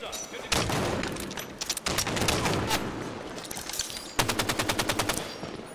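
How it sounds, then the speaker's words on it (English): Rapid bursts of automatic gunfire crackle in a Halo 5: Guardians beta multiplayer match, with several loud, dense volleys separated by brief pauses. "Too many people shooting at me."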